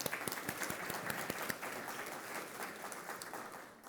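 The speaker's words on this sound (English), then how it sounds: "say hello to them real quick with a round of applause" Round of applause from a keynote audience at a food system policy event, dense clapping that starts fairly strong, softens midway and carries on at a lower, quieter level.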